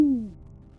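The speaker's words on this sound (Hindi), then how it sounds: "रास्ते में दूर कहीं से उल्लू की आवाज आई।" One low owl hoot, sounding at night near a village edge by dry trees and broken walls, starting sharply then sliding down and fading into a quiet hum.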